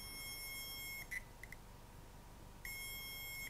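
An anti-spy bug detector emits a steady high electronic tone as it picks up a nearby mobile phone; the tone cuts out for about a second and a half, with a few brief blips, then resumes, close and fairly loud over quiet room noise.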